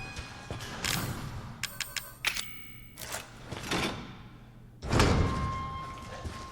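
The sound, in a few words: door unlocked with a key in the video game Resident Evil 7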